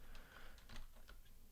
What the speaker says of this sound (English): We're going to type a regular expression here.